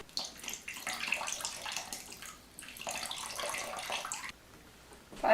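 Water runs steadily from a tap while making vegan, nut-free gluten-free focaccia dough, a continuous hissing splash that pauses briefly near the end, with no talking.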